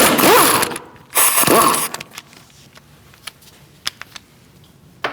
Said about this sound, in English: Using a 17mm socket, we're going to take out this bolt and the one up here.